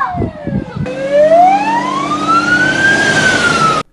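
A fire engine siren wails in a single long rising and falling sweep, loud and near, responding at night to a blaze in Çayırova, cutting off abruptly.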